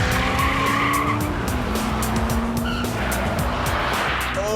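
An Alfa Romeo corners hard with loud, sustained tire squeal over a roaring engine, the squeal pitch sliding as the car attacks the bend, close and continuous.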